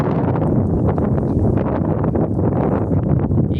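Strong wind blowing steadily in a Greek village, buffeting the microphone with a dense, roaring rumble and rustling that may include a flag flapping; loud and continuous throughout, no voices.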